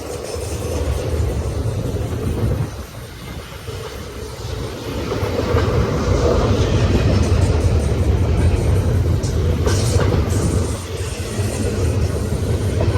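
A high-priority Z freight train led by five locomotives, three of them heritage units, roars past at scenic Silverwood, a loud steady rumble of engines and rolling wheels with a brief dip before building again, no voices.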